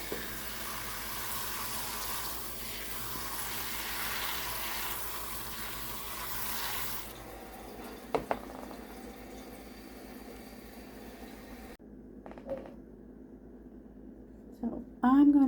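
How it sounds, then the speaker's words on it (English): A faucet trickles gently onto potted strawberry and loofah plants, a steady close water sound that stops partway, followed by quiet handling clatter and a few knocks. "on my faucet to where it's like rainwater, not like a rushy, flowy stream"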